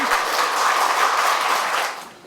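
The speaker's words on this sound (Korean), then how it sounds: "네, 박수 쳐주십시오." An audience at an anniversary award ceremony applauds in a dense, steady burst of clapping that fades out toward the end.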